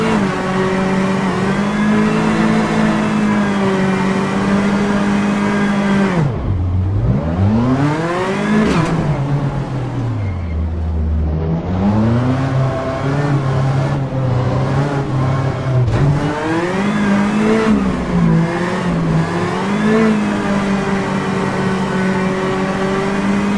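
A rally car engine in the driving game Richard Burns Rally drones steadily and loudly throughout, rising and falling in pitch as it accelerates, drops off under braking and revs up again, with no talk.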